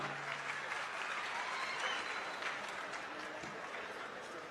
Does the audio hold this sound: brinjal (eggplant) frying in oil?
no